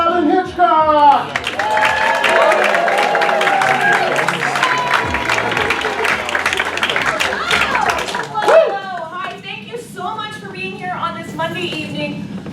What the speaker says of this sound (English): give a big round of applause for Robin Hitchcock!